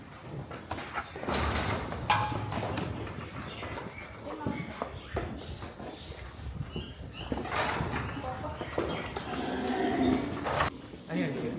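Cows low at a cow shelter where visitors have come to feed them jaggery. The deep moos are fairly faint and come from nearby, under steady conversation and some shuffling hoof and foot sounds.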